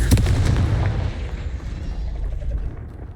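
Confringo fire spell blast in Hogwarts Legacy, a loud booming explosion right at the start that rolls into a long rumbling decay, with no voices over it.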